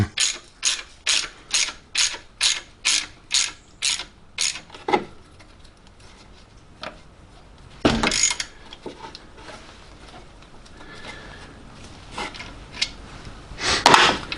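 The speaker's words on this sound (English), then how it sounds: "in the tensioner there. Just wind the bolt in." A ratchet wrench winds a bolt into the belt tensioner of a Volkswagen GTI VR6 engine, with about nine quick, evenly spaced ratcheting clicks up close, then scattered quieter clicks and knocks of tool handling.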